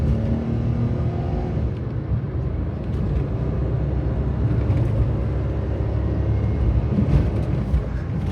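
The turbocharged engine of a Honda Z UM4 kei car, just back from a timing belt and water pump job, runs at a steady, fairly quiet idle with a low rumble and light mechanical ticking, close by.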